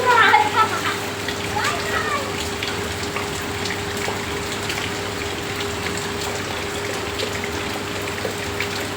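Heavy rain falls in a steady, dense hiss with a constant low hum underneath, sustained throughout at moderate level.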